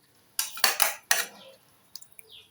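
A lid goes onto a pot of banana stem curry with a few sharp metallic clanks close by, followed by lighter taps and a soft scrape as it settles.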